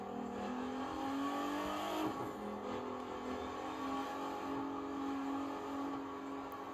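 A Ford GT sports car in the racing game The Crew 2 drives past traffic cars at sunrise, its engine droning loudly and steadily with a swelling pass around the middle, no talk over it.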